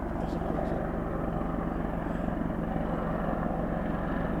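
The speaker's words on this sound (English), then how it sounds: "There's a second Apache helicopter now, flying over the top of us." Apache helicopter flying overhead, a loud continuous low thudding rotor drone with engine whine, close and steady, with faint voices underneath.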